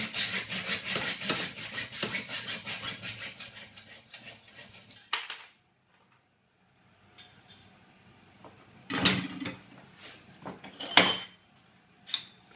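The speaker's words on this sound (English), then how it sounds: "Put the blade in with your saw and then tighten the vise." A hand saw cuts through a steel trunking lid clamped in a vise, fast rhythmic rasping strokes at first, then a pause followed by a few separate, heavier scraping bursts and a clank.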